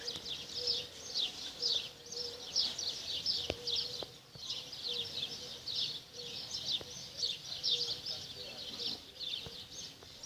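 Young collared dove chicks in a nest give continuous, high, rapid squeaky begging calls in quick rhythmic bursts that persist throughout, with faint voices in the background.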